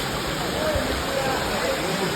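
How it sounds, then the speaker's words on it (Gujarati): A small mountain stream runs beside the old stone steps of Girnar near Junagadh, giving a steady, close rush of flowing water that stays even throughout without pauses. "આ નાનું એવું ઝરણું દેખાય એ ને જર હોય"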